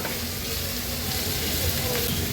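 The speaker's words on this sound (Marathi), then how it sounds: "हे बघा कांदा पण व्यवस्थित आपला शिजत आलाय" Chopped onion sautéing in oil in a pan with ginger-garlic paste, cooking for a bitter gourd dish, giving a steady, even sizzle with no breaks, close and fairly loud.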